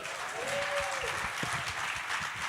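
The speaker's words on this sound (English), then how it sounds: "Another round of applause." Audience applause fills the room steadily, a dense wash of clapping with a brief whistle-like tone rising above it near the start.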